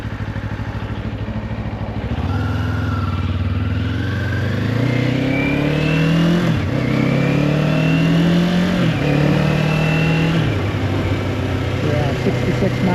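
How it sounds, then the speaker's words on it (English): A car cruises around a neighborhood, its engine droning steadily up close and rising and falling as it accelerates through the gears in repeated revving sweeps. "just a quick cruise around the neighborhood"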